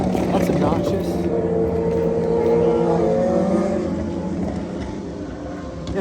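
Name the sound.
road traffic noise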